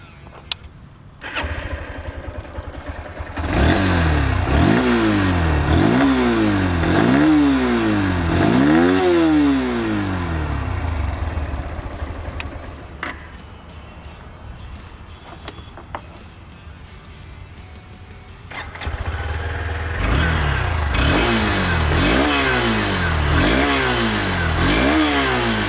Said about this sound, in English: both these motorcycles have a very similar exhaust note